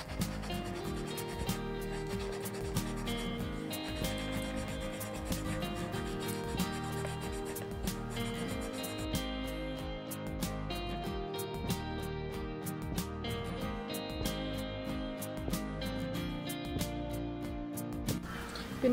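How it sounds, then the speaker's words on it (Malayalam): Steady rubbing and scrubbing of a coconut shell with old shoe polish, a continuous close-up friction sound that runs unbroken throughout with no speech. "ഇത് വെച്ചിട്ട് പയ്യെ ഒന്ന് പോളിഷ് ചെയ്ത് കൊടുക്കാം."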